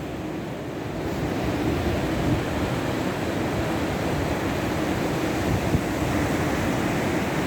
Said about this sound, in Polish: dawno nie widziałam tak wzburzonego morza